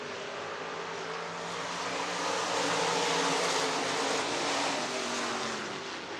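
IMCA race cars circle the dirt track at Boone Speedway in Boone, Iowa, their engines a continuous broad roar that swells louder mid-pass and then eases, heard from a moderate distance with no voices.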